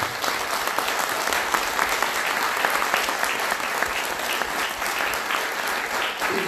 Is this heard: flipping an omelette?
no